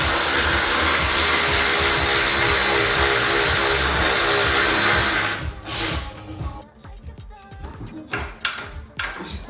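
A power tool undoes suspension bolts on an Audi TT during a rebuild, a loud continuous whirring drone that cuts off partway through, leaving quieter clanks and workshop noise.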